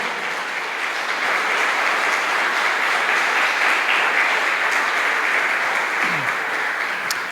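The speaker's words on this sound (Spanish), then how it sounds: "Dale un fuerte aplauso al Señor." A church congregation applauds steadily, a dense, even wash of clapping that holds loud and unbroken throughout.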